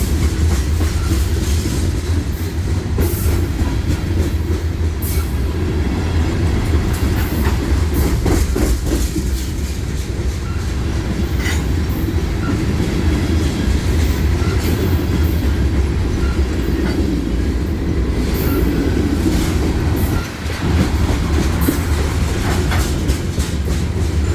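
A freight train rolls past close by in Lapeer, a continuous loud rumble of railcars with rhythmic clickety-clack of wheels over rail joints, sustained throughout without pause.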